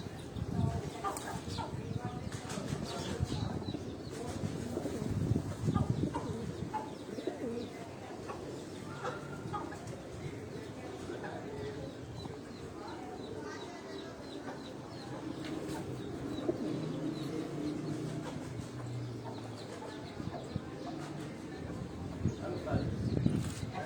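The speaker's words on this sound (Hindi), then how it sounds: "ये चीने कबूतर अगर आप देखें" Chinese pigeons coo on a rooftop in Rawalpindi, soft repeated throaty calls rising and falling over the whole stretch, with an occasional chirp, while people talk nearby.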